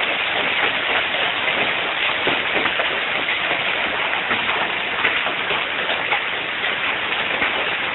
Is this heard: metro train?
no